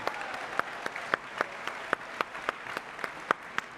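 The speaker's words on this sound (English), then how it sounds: "Can we give a huge round of applause to these very special alumni?" An audience at the Regeneron ISEF 2025 alumni panel gives a steady wash of applause, with a few louder, regularly spaced claps standing out above the crowd throughout.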